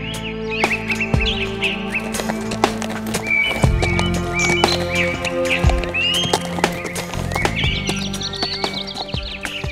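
Hooves clip-clop steadily along a road, with a neigh-like bray and chirping birds layered over a busy outdoor scene.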